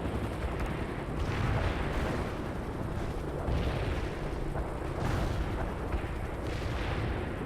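In the strategy game World in Conflict, an AT missile launches and explodes within steady, rumbling battle noise, where heavy booms and gunfire roll on in thick layers. No clear voice is heard.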